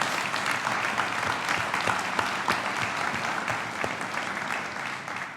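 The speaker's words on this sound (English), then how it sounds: "Can we applaud the family members that are behind these officers?" An audience at a police officers' graduation applauds their family members, steady, fairly loud clapping that holds throughout and eases slightly toward the end.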